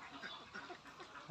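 Ducks quack inside a duck farm, a faint flurry of overlapping calls at a distance, repeating in quick irregular bursts.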